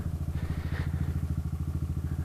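A lowered and stretched Kawasaki Z125 motorcycle, stock and unmodified, runs on a kart track with a steady, close, rhythmic single-cylinder putter at low revs, loud and alone without talking.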